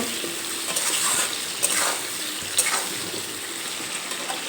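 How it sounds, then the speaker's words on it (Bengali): Sliced potatoes fry in a pan with oil and salt, giving a steady close sizzle and hiss with a few soft scrapes and clinks from occasional stirring. "আলুগুলো এখানে 2-3 মিনিটের মতো ভেজে নেব।"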